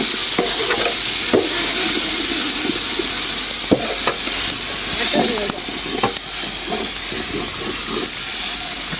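Biryani rice is stirred and fried in a pot, a steady close sizzle and hiss running throughout, with repeated scraping stirs and clinks of the spoon against the metal.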